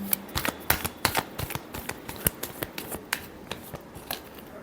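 Tarot cards are shuffled by hand in quick, crisp bursts, a rapid series of sharp riffling snaps and slaps close to the microphone, irregularly spaced over a quiet background.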